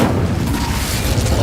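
A fire spell, Incendio, goes off in a video game as a loud, dense roaring burst of flame that holds steady for the whole moment.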